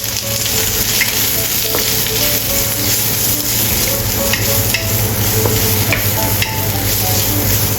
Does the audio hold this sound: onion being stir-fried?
yes